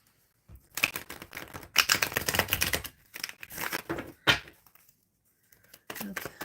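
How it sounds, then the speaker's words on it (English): Tarot cards being shuffled, giving bursts of dry crinkly riffling and tapping in several uneven clusters, close up and fairly quiet, with brief pauses between. "Okay, shuffling for Prada."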